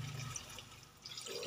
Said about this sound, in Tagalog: Lagyan na po ng tubig.